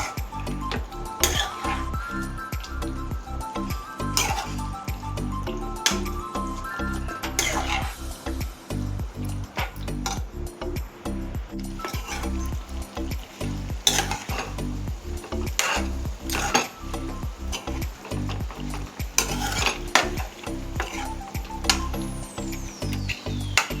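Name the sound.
stirring frying chicken in a pan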